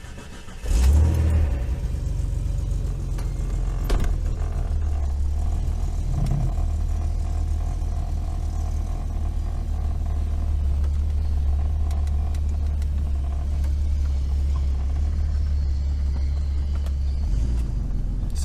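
A 1988 Jeep's engine starts up and revs while driving, a loud deep rumble that surges early, then holds a steady throaty drone close by, with no talk.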